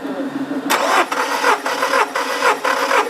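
Car engine cranking on the starter during a compression test after overheating, a steady rhythmic chug of roughly six even compression pulses, close and loud, starting abruptly after a short pause.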